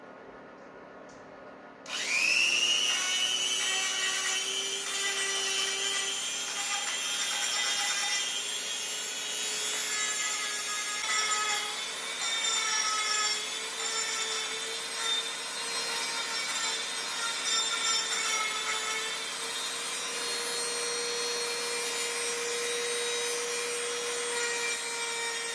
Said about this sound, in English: I'm gonna start trying to clean some of these up using this and just really sandpaper wheel